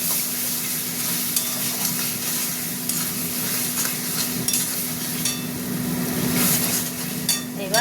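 Spice masala for a Bengali bottle gourd and egg dish, with garam masala added, sizzles in a pan while being stirred; a steady close frying hiss runs throughout, broken by scraping stirs, over a low constant hum.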